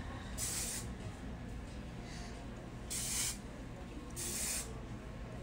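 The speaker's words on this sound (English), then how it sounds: "it is a hairspray and texture spray together" Three short hissing bursts of Kevin.Murphy combined hairspray and texture spray are sprayed onto hair, close by and evenly spaced, with no talking.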